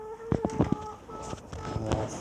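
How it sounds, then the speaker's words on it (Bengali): A hen clucks in short, close bursts with a few sharper calls after laying an egg, over light background noise. "আমি দেখাচ্ছি আমার মুরগটা আজ ডিম পেড়েছে"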